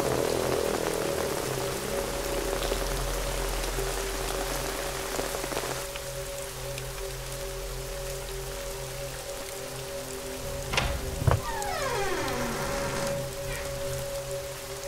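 Steady rain patters on surfaces throughout, a dense even hiss, with a few faint clinks and tonal sounds rising briefly near the end.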